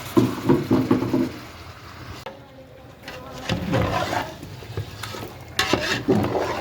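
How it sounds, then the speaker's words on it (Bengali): Chicken pieces frying in a pot for kabsa are stirred with a utensil, giving intermittent scraping and clattering strokes over a soft, steady sizzle, close by. "চিকেনগুলো ভালোভাবে সুন্দর করে নেড়ে নিচ্ছে।"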